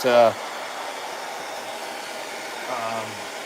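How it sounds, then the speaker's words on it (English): A hair dryer blows on the arm joint of an action figure with a steady airy whoosh, close by, with brief voice fragments at the start and near the end. "I'm just kind of waving my hair dryer back and forth"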